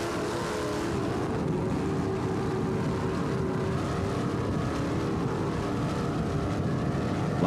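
A powerboat with three 1,000 horsepower inboard engines racing at the South Padre Island Powerboat Grand Prix gives a loud, continuous engine roar and drone that holds steady throughout, with no talk.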